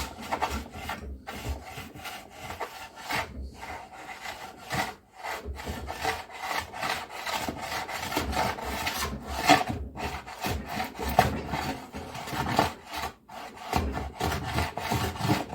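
Repeated rasping strokes of a hand plane shaving live edge cedar, rough scraping passes with brief gaps between them, close and steady with no voices.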